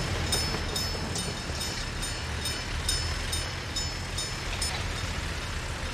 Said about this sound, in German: Nein, es kommt ein Zug.